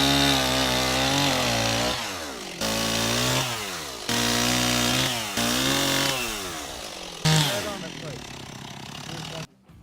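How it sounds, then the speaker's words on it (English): A chainsaw cuts trees in a garden during a makeover, the engine revving loud and close in repeated bursts that rise and fall as it bites, then cuts off abruptly at the end. "Let's get this chainsaw going and get everything offset for the maple."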